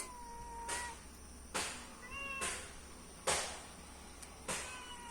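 A cat meows repeatedly, about five drawn-out calls at fairly regular intervals, close and clear over a low steady background hum with no talk.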